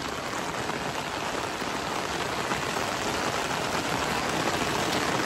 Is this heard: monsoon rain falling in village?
yes